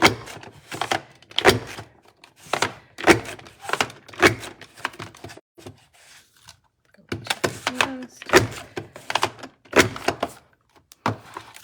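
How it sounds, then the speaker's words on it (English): A craft border punch cutting paper for a Sunshine Arches layout, a series of sharp crunching clunks in an irregular rhythm, close and loud, with a short pause midway. "we're going to punch this 6 more times"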